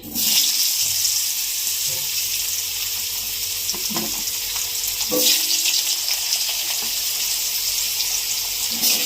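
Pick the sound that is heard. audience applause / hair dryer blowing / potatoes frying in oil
potatoes frying in oil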